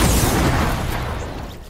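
A loud explosion in a 1v1 video game match, one heavy boom with a rumbling tail that fades over about two seconds, with no voices.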